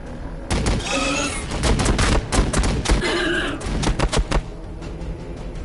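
Rapid volleys of gunfire in the Warhammer 40k Battlesector video game, dense overlapping bursts and cracks over several seconds, loud and continuous with brief lulls.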